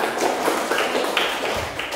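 A group of schoolchildren clapping their hands together in a classroom, a dense, steady patter of claps running for the whole stretch, fairly close and lively.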